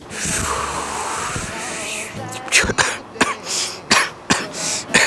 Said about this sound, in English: I'm coughing on my own dramatic effect.